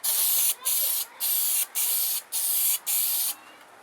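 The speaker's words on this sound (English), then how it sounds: "the bigger can with the liquid chrome. Spray that onto over here a bit." Six short bursts of liquid chrome aerosol spray paint hiss in a steady rhythm, close and loud, each lasting about half a second with brief pauses between.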